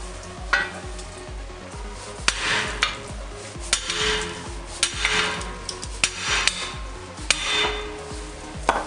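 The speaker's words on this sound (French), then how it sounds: "en tapant la main je vais pouvoir sortir l'arbre" Sharp hand taps knocking the rear axle shaft out of a Suzuki Jimny JB43 hub in a workshop, a series of about eight irregular metallic knocks over a steady background hum.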